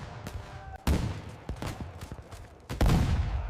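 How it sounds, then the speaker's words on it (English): Rifle volley gunfire in a battle at the Alamo cracks out in a ragged scatter of sharp shots of varying loudness, with heavier booms near the start and end. "absorbed the first brutal volley of rifle fire"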